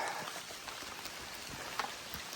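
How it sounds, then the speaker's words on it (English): Steady rain falling on a hiking trail in Red River Gorge, a continuous soft patter with scattered nearby drops, fairly faint and without voices. "We're hiking out in the rain."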